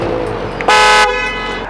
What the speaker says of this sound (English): It's not a weak horn, just check it out. This is a train horn